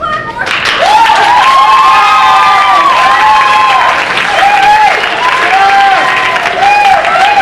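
Steady, loud applause from a theatre audience welcoming an author at a staged mystery show, dense clapping throughout with a few cheers and voices rising above it.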